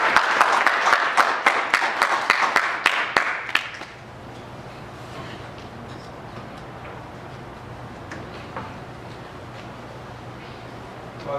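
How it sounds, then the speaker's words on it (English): Conference audience applause greeting presenters coming to the stage, a brisk round of clapping for about four seconds that stops abruptly, leaving quiet room hum. "let's give them a wonderful round of applause to the stage"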